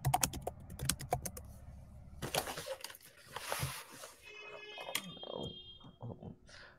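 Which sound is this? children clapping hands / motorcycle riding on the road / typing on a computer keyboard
typing on a computer keyboard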